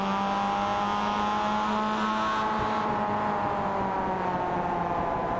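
Mazda MX5 race car racing at Circuit de Barcelona-Catalunya, its engine droning loud and steady with a sustained whine that shifts pitch slightly as it works through the corners, no voices.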